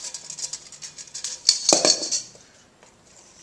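A mixing tool works flour into dough by hand, giving light clinks and scraping taps against a bowl, irregular and fairly quiet, with a sharper knock midway before the sounds thin out.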